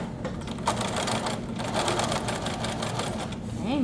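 Rapid, steady mechanical stitching of a sewing machine sewing a seam on a fabric hood, a close, continuous chattering rhythm with no talking.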